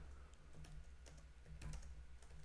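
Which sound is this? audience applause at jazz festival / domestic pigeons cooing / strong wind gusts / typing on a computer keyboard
typing on a computer keyboard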